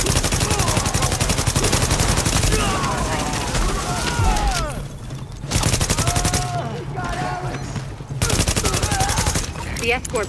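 Sustained rapid gunfire from a rooftop gunner pours down during a firefight in the shooter game The Division, loud and dense throughout with brief lulls, while voices talk over the shooting.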